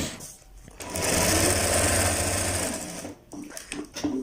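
A sewing machine stitches a kurta, taking the seam away from the buckram. It runs in a loud, close, rapid whirring burst of about two seconds, followed by a few short clicks as it stops and restarts.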